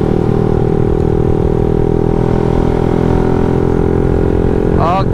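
A motorcycle with a carburetor problem idles with a steady low rumble throughout, close by, with a brief rising rev near the end.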